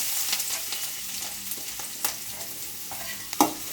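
Ginger, garlic and chillies fry in oil in a kadai with a dense, close sizzle and crackle, broken by scraping stirs and a sharp clink near the end.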